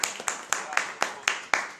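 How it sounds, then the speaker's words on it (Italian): Hand claps ring out in a brisk, even rhythm of about four per second, close and crisp, as applause for a team manager at the end of an interview. "allora un applauso a Gianluca Barbagallo."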